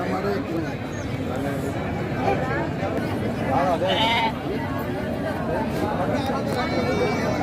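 Goats bleat repeatedly amid a crowd's chatter and babble at a weekly Saturday livestock market in Pebbair, their calls rising over the busy din, with people talking throughout.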